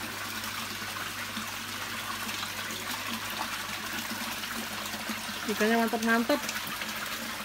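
Steady rushing water at a koi fish farm pond in Blitar, a constant broadband wash filling the clip, with someone speaking briefly near the end over the flow.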